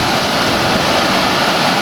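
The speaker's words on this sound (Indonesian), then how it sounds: "Terus di sini juga ada sungai kecil." A small river flows beside a villa in Cisarua, Puncak, producing a steady, close rush of water that stays continuous and even throughout, with no voices.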